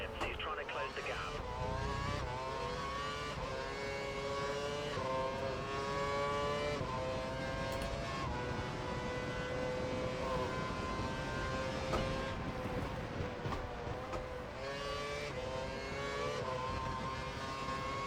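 A Formula One race car engine screaming at full revs in F1 2012, a high, sustained whine with rising pitch sweeps through gear changes, heard close and continuous under a team radio voice.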